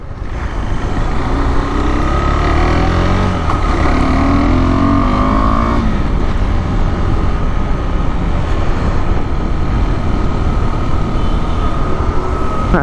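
KTM 390 Adventure motorcycle engine running steadily while riding on the road, a loud continuous drone with rising and falling tones as it shifts through revs, mixed with wind rush throughout.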